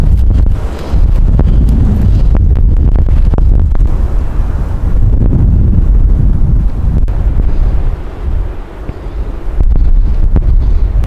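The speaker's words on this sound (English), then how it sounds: "the wind's picking up" Strong wind gusts buffet the microphone on a Colorado ridge, a loud roaring rumble that surges and eases in waves, dipping briefly before blasting back up, with no voices.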